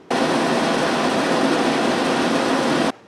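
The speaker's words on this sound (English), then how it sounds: "I wonder what an air conditioner sounds like." Air conditioner running, with a steady broadband whooshing hum that starts abruptly, holds even and loud for about three seconds, then cuts off.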